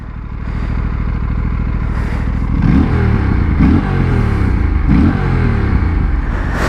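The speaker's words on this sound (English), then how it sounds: "I just think it's so great that this motorcycle sounds the way it does." A 2025 Aprilia RS457 motorcycle with a 270-degree crank idles with a loud, close, throbbing engine note, then revs sharply three times, each rise in pitch falling back.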